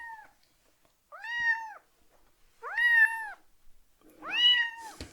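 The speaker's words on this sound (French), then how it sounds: "Je me fais attaquer par un chat." A domestic cat meows three times in a row, each call clear and drawn out with short silent gaps between, heard up close in a quiet room.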